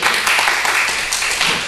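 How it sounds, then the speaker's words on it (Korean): A congregation claps during a Korean church Sunday service, producing a brief, dense patter of many hands that stays loud and even for under two seconds. "박수 한번 쳐줘요."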